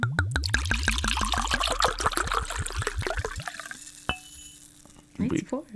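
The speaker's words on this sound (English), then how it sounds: "Time for the pour." Liquid poured steadily into a glass, the gurgling pitch rising as it fills over several seconds, then stopping, followed by a brief clink and faint voices.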